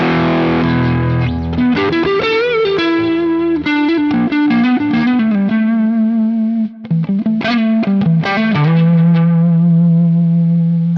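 An electric guitar played through a fuzz pedal model on a Quad Cortex rings out loud and saturated, thick distorted notes and sustained chords with heavy harmonics, changing pitch in phrases and ending on a held note.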